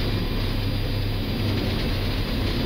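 Airbus A319 jet engines at takeoff power, a loud, steady roar with a deep rumble filling the cockpit, no talking.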